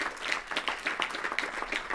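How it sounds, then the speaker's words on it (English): Wedding guests clapping during a reception speech, a soft, fairly distant patter of many hands with a few sharper claps rising out of the steady mix. "So if you can all give Liv a clap."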